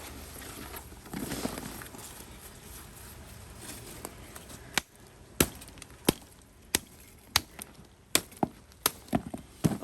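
Tightly bound orchid root ball being broken apart by hand during repotting, rustling and crumbling at first, then a series of sharp snapping cracks at fairly regular intervals, close and moderately loud.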